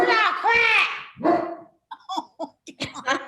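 A dog barks close by, first a long howling, whining bark followed by a string of short, sharp yips and bow-wows in quick succession.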